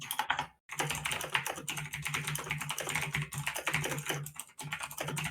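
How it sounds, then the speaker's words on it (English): Rapid clicking on a computer keyboard, dense irregular keystrokes rattling on close and fairly loud for several seconds with a couple of brief pauses and no voices. "And we can all hear you clicking."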